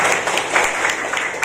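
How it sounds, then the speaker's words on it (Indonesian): Audience applause for Rizka, an honoured student, at a year-end report card and awards ceremony at a full-day elementary school, a steady dense burst of many hands clapping close and loud. "Tepuk tangan buat Rizka"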